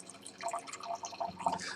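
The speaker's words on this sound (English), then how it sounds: "Let's give it a pour." Concha y Toro Chilean red wine, 13.5% alcohol, being poured from the bottle into a glass, a soft steady trickle and splash lasting under two seconds, close and fairly quiet.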